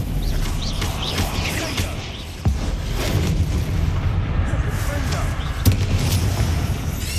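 Spell blasts from the Confringo blasting curse in Hogwarts Legacy, a dense run of booming explosive bursts with sharp cracks near 2.5 and 5.7 seconds over continuous game noise.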